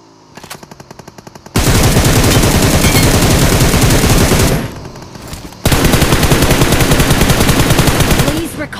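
Rapid automatic gunfire from the mobile video game PUBG Mobile rattles in long, loud sustained bursts with a short pause between them, preceded by a few quieter shots.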